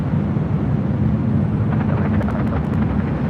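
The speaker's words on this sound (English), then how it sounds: "the next United A320 coming in from Seattle, Washington. Next arrival on 24 left" A United Airbus A320 arriving from Seattle to land on runway 24 left at LAX, heard as a steady, loud, broadband jet roar that holds constant throughout with no talk over it.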